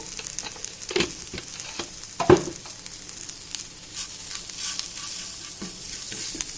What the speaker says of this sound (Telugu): ఇప్పుడు పోపు వేగిపోయింది.